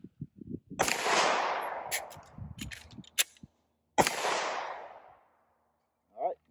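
Two loud handgun shots from a holstered pistol during a magazine-change drill, each a sharp crack with a long ringing tail, spaced a few seconds apart, followed by a brief metallic click at the end.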